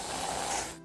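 A Reddi-wip whipped cream can sprays in one short, hissing burst that lasts under a second, close and soft.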